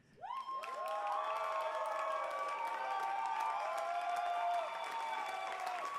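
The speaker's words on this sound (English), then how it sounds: "cheer as loud as you can for them" A crowd at a student team presentation event bursts into cheering and sustained applause, with whoops and shouts over clapping that builds quickly and stays loud throughout.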